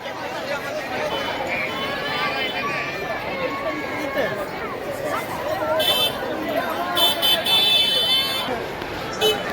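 A dense crowd of pilgrims at Pandharpur temple by the Namdev steps, heard as a steady babble of many voices with shuffling movement and scattered calls throughout.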